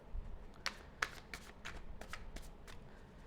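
Tarot cards being shuffled by hand, a quick series of soft, close riffling flutters and light card slaps, with no speech.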